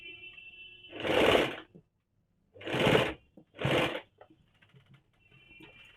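A sewing machine stitching lace onto a kaftan nightie runs in three short close bursts, the first longest, separated by near silence.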